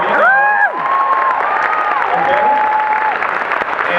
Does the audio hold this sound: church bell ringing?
no